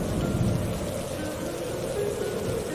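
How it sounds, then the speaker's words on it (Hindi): Steady heavy rain pours continuously, with a low rumbling of distant thunder blended into the dense wash of sound. "तेज हवाएं भी चल रही है, बिजली भी कड़क रही है"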